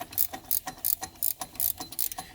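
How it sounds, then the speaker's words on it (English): A ratchet wrench clicks as it loosens the tensioner pulley bolt on a 2011 Subaru Outback during a serpentine belt job, short bursts of rapid pawl clicks in a steady back-and-forth rhythm, close and clear with no talking. "get the ratcheting side and begin ratcheting the right way"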